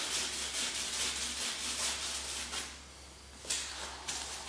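A rag rubbed steadily against a reef tank surface to remove glue smudges, a close continuous scrubbing hiss in back-and-forth strokes that eases toward the end, alone with no talking.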